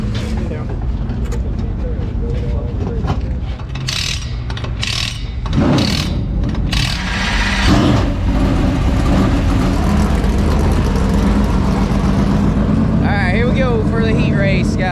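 A late model dirt race car engine roars loudly through a heat race with surging revs and rumbling, and someone talks over the engine noise.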